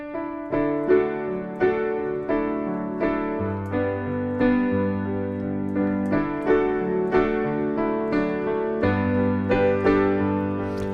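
Solo piano plays the melody of a song harmonized with chords, steady mid-register notes over sustained low bass, clear and alone.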